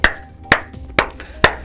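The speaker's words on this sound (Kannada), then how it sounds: "ಅದಕ್ಕೆ ಈ ಚಪ್ಪಾಳೆ." Four sharp, evenly spaced hand claps ring out, loud and close, each with a short room echo and nothing else around them.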